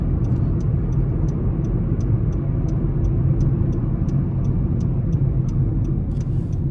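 A 2012 Honda Civic LX with a naturally aspirated 1.8 liter 4-cylinder engine drives along, a steady low cabin drone accompanied by a regular ticking click that repeats evenly throughout.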